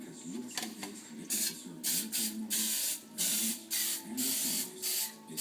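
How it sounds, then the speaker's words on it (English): Butter-flavored Pam cooking spray hisses into a muffin tin in a series of short bursts, about eight quick sprays with brief pauses between them, close and fairly loud. "So I just take a little muffin tin, some little Pam spray, and I use the butter flavor."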